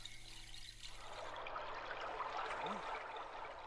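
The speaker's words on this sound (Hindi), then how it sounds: "पानी का झरना" Forest waterfall pouring steadily, a soft continuous rush of flowing water that swells slightly partway through, heard from a moderate distance with no talk.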